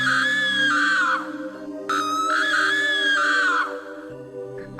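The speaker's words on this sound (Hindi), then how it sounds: "तभी उन्हें किसी के चीखने चिल्लाने की आवाजें सुनाई देने लगी।" Cartoon screaming and shouting, loud high wailing cries in two long bursts separated by a short break, over a low sustained background.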